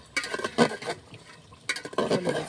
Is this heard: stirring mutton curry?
yes